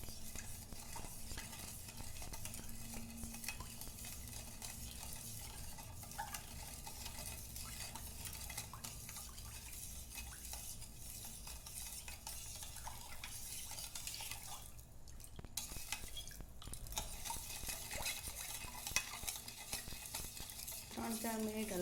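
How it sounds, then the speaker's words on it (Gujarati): A spoon stirs sugar into milk for poha in a pot, producing a steady, faint, continuous swirling and scraping that runs throughout with a low background hum and no speech. "સાકરને ચમચીની મદદથી મિક્સ કરી દેવાની."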